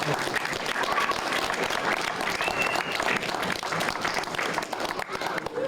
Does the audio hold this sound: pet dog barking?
no